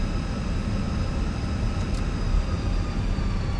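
Auxiliary power unit of a Fenix A320 airliner spooling up in Microsoft Flight Simulator, a steady broadband turbine roar with a faint high whine held at even loudness throughout, no voices.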